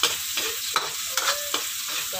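Onions sizzle steadily in a hot pan, with a continuous frying hiss broken by repeated sharp scrapes of a utensil stirring, close and fairly loud, with no voices.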